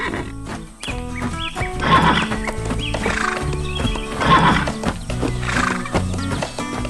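Horses neighing and hooves clip-clopping in a cartoon farm scene with a brown horse arriving by truck, heard as loud repeated whinnies over steady hoofbeats and bright background music.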